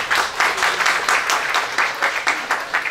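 A crowd at a Turkish accountants' association event in Kağıthane, Istanbul, breaks into applause, close and loud, with the clapping swelling into rhythmic pulses toward the end.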